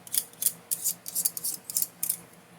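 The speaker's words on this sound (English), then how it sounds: "an old blade will just roughly scrape this gasket off" An old blade scrapes a gasket off an aluminum outboard motor in a rapid series of about a dozen short, sharp, raspy strokes, close and fairly quiet, with no talking.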